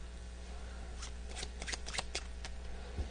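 A deck of playing cards is shuffled in a quiet room: a quick run of soft riffling flutters and crisp snaps clustered in the middle, with a low steady hum beneath.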